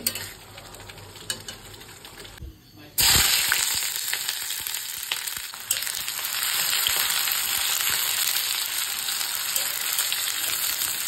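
Chopped onion fries in hot oil in a pan. A quieter stretch with light crackling turns into a sudden loud sizzle that stays strong and continuous, with scattered pops and no speech.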